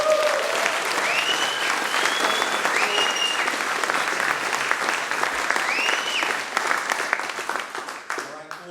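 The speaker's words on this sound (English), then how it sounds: "Everybody, please, a big applause." An audience at an outdoor blue plaque presentation for a Santa Cruz longboard club claps and cheers in sustained, loud applause with scattered whoops, tapering off near the end.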